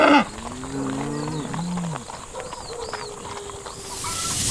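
Cattle on a dairy farm bellow a long, low moo up close, followed by birdsong and a steady outdoor hiss.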